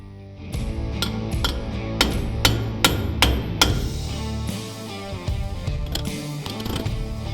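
Sharp metallic hammer strikes through a copper bar onto a differential bearing race ring out in a quick series, a dozen or so blows on metal, loud and close, followed by a few lighter taps.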